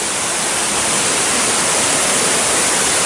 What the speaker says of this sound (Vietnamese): Một cái thác chảy thật là đẹp.